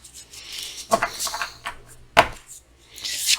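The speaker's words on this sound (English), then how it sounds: "If I can keep my hair out of my shuffling." Tarot cards being shuffled, with soft riffling and flicking bursts broken up by a couple of sharp card snaps, close and uneven.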